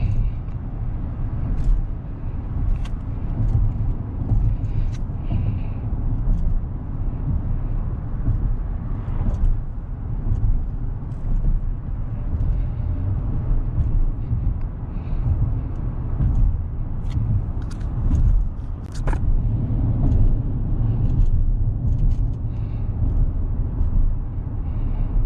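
Synthetic engine sound plays inside a 2022 Acura MDX A-Spec SH-AWD luxury SUV while driving, a continuous low droning rumble with road noise and faint rattles, steady and close throughout.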